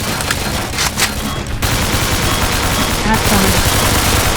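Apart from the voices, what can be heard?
gunfire in video game Slendytubbies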